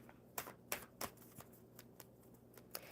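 A deck of tarot-style cards being shuffled by hand at a table, a handful of sharp riffling snaps spaced through a quiet room, fairly close and alone.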